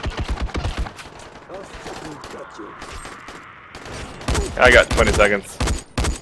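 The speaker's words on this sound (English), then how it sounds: "I'm being shot. There's two guys here with assault rifles." Assault rifle fire in the video game Dying Light crackles in rapid bursts, with a quick volley at the start and a louder, denser burst later, while someone talks over it.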